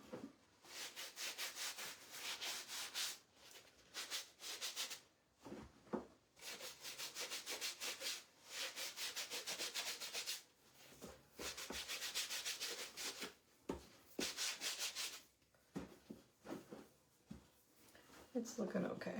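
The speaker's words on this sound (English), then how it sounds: "I'm just adding some clear wax to my thing when I rub on it" Clear wax is rubbed by hand onto a large decorated egg on a stand, making steady, close scratchy rubbing strokes with brief pauses, while a quiet voice talks now and then.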